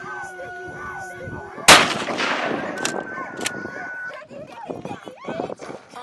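Gunshot at an outdoor shooting range, one sharp loud crack followed by a long echoing tail and a couple of fainter pops, with people talking before and after.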